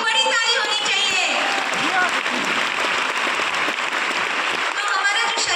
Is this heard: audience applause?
yes